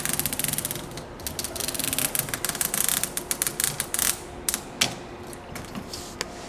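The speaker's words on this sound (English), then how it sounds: "You just cut this, otherwise with a utility knife." A utility knife scoring and cutting through greenhouse louvre window material, a quiet series of irregular scraping clicks and ticks, close up with no speech.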